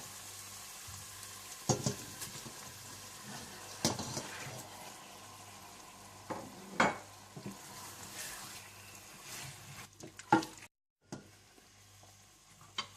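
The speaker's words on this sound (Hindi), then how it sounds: "जब टमाटर अच्छी तरह से भुन जाएं तो आप इसमें चिकन डाल दें" Tomatoes and chicken for chicken jalfrezi frying in a pan, a continuous sizzle with intermittent stirring scrapes and knocks, briefly dropping out near the end.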